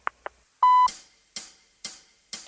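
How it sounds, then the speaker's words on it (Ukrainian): A voicemail beep after a phone message prompt: two short electronic blips, then a longer steady tone, followed by three soft bursts, all clean and close against silence. "Залиште ваше повідомлення після звукового сигналу."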